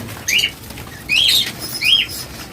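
Caged birds for sale flap their wings in three short bursts, mixed with thin chirping calls, close and moderately loud, with no talking.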